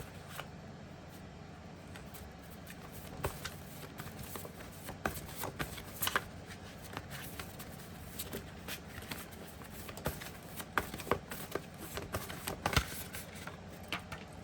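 Tarot cards are shuffled close up in a long run of quick, papery riffles and taps, uneven in rhythm, with occasional louder snaps and no talking.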